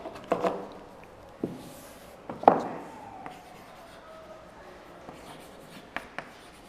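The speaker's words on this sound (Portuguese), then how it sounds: "Escrever melhor aqui." Chalk or marker writing on a board during a university mathematics lecture on normal operators and Fourier series, a series of short, sharp scratching strokes and taps at irregular intervals, close and moderately loud against a quiet room.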